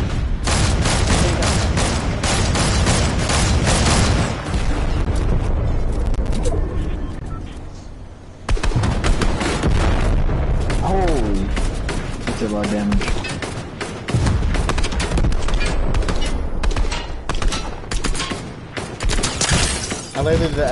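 Heavy tank cannon blasts and dense explosive fire in a video game battle, loud and near, with booming impacts and shattering crashes over a sustained roar of combat and people talking.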